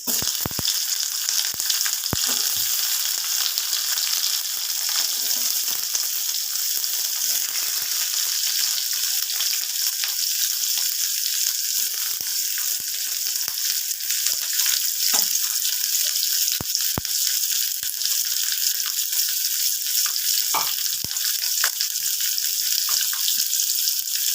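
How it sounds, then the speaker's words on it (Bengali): Chopped onions frying in a pan for masoor dal bharta, a loud continuous hiss of hot oil with scattered clicks and pops, close up and with no voices. "এবার দিয়ে দিচ্ছি পেঁয়াজ কুচি।"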